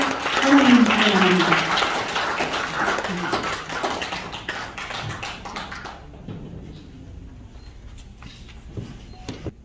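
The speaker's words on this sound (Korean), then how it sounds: "박수로 환영합니다." A crowd at a forum's founding general meeting claps loudly for several seconds, the applause gradually thinning out and fading to scattered claps near the end.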